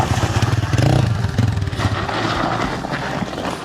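Off-road enduro motorcycle engine idling and rising loudly as the clutch is let out, a close, rough continuous drone with clatter and a brief surge early on, faint voices nearby.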